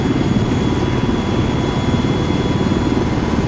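Helicopter engine in Arma 3, a steady, loud low throb with rapid rotor pulsing, droning continuously and close.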